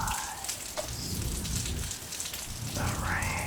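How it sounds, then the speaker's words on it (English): Steady rain patters and hisses on surfaces in a dense, continuous wash, with faint soft tones rising briefly above it and no voice. "The rain and everything that comes with it sounds so nice"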